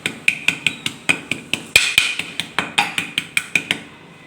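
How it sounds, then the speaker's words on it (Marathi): Roasted peanuts for sesame-jaggery laddus are crushed with a heavy object in a rhythmic series of about fifteen sharp, evenly spaced knocks. Each knock rings briefly against a hard surface and sounds close. "अशा प्रकारे तुमच्याकडे कुठली पण जड वस्तू असू द्या त्याने असे फोडून घ्यायचे आहेत."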